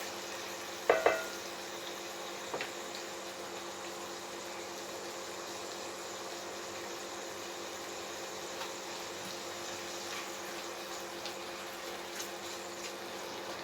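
Roughly sliced onion with ginger and garlic softening in a pan before the rest of a beef mince pie filling goes in, giving a steady low sizzle and bubbling throughout, with a couple of brief utensil knocks near the start.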